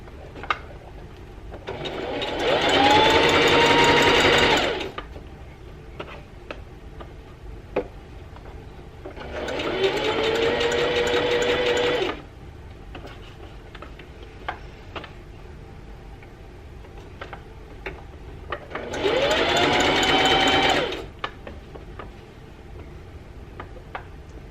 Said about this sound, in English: You're gonna reverse stitch to lock that stitch in